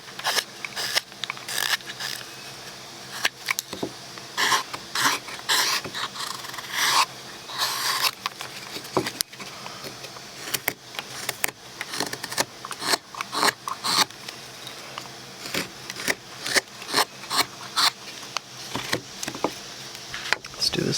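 A wood carving chisel, bevel up, pares small cuts from a carved Santa ornament's beard in a series of short, dry scraping strokes, close and fairly quiet, with no talking.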